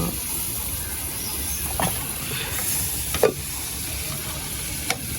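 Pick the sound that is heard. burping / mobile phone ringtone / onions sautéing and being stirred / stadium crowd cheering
onions sautéing and being stirred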